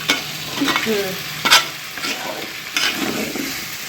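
Spices, cumin powder and chopped garlic among them, sizzle in hot oil in a pan while a spoon stirs and scrapes in short bursts, close and fairly loud, with no talk.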